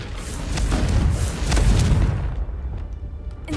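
A booming explosion from the Confringo spell in the video game Hogwarts Legacy rolls out loud and deep, with a couple of heavy swells over a few seconds before quickly dying away.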